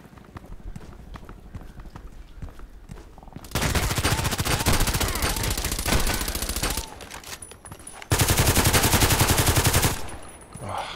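Rapid, loud bursts of video-game gunfire crackle in two long sustained volleys, each several seconds long, with quieter game ambience and footsteps between them.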